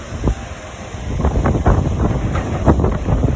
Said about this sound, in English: There was a huge front storm